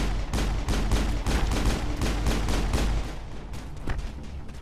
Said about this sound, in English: now we get to the meat of the gameplay, which is cover-based shooting